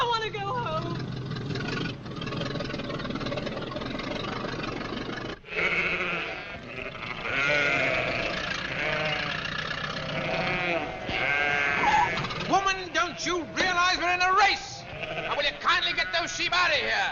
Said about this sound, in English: sheep out of here! Get them out of here!